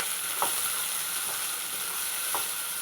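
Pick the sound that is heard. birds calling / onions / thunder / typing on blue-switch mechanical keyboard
onions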